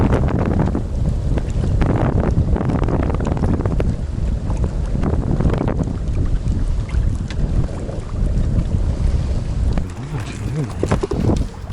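Strong wind gusts across a lakeside crucian carp fishing spot, buffeting the microphone with a steady, loud, rumbling roar that holds for the whole stretch.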